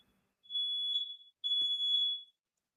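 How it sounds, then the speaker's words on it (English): Home smoke detectors sound two long, high, piercing electronic beeps in a row, clear and fairly close in an otherwise quiet room. "Those are my smoke detectors, so I'm not bailing."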